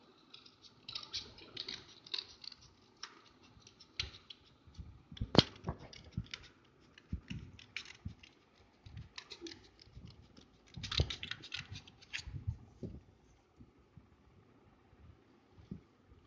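Scissors snip through an A4 paper sheet for a craft bookmark, producing faint, scattered crisp cuts and rustles at close range, with quiet pauses between bursts.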